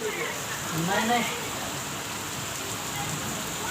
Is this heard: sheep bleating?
no